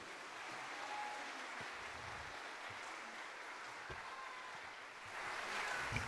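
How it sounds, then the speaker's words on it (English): Audience applause in a school auditorium after a mariachi performance, steady clapping heard faintly and evenly throughout. "One more round of applause, Mr. Michael Sherrod, ladies and gentlemen."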